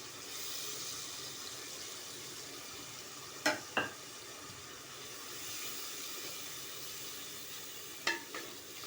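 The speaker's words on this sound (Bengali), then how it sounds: "এখানে দেওয়া আছে রসুন আদা আর হচ্ছে জিরা" Garlic, ginger and cumin fry in a pan with a steady, close sizzling hiss that runs throughout, broken by a few sharp stirring scrapes, and no one talks.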